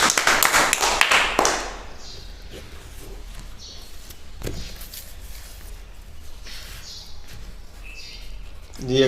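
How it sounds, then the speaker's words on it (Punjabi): Children in a Punjabi alphabet lesson clap together in a brief loud burst of rapid claps during the first second and a half, followed by quieter room sound. "ਬਹੁਤ ਵਧੀਆ ਤਾੜੀਆਂ ਮਾਰੋ ਸਾਰੇ ਬੱਚੇ"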